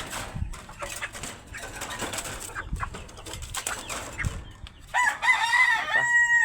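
A rooster crows near the end over steady outdoor background sound, after scattered knocks and rustles, among a yard with many chickens.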